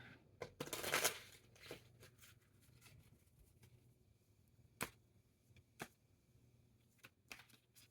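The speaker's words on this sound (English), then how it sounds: "Let's do another shuffle." A deck of playing cards is shuffled once: a quick, soft riffle burst near the start, then scattered light clicks and taps. Everything stays very faint and close.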